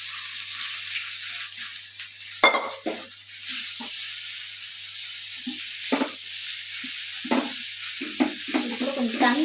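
Potatoes are stirred into frying onion and tomato in a pan, with a steady sizzle throughout and several scraping stir strokes and clanks of a utensil against the pan.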